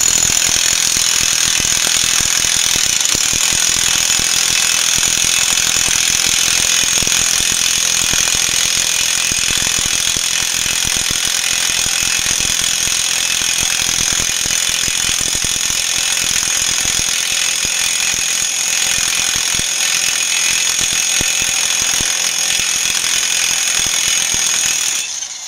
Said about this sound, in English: Okay, got my nice handy dandy impact.